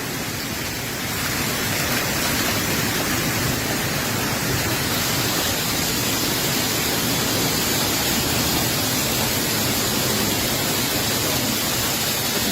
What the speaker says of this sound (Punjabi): ਦੇਖ ਰਹੇ ਉੱਪਰੋਂ ਗੜੇ ਡਿੱਗ ਕੇ ਛੱਤ ਤੇ ਵੱਜ ਕੇ ਥੱਲੇ ਆ ਰਹੇ ਨੇ